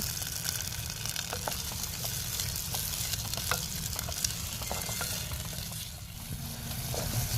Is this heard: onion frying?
yes